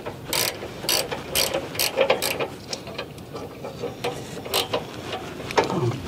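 A hand ratchet tightening a bolt at the rear of a 2002 GMC Envoy, giving close, rapid ratcheting clicks in repeated strokes with brief pauses between them, no voices.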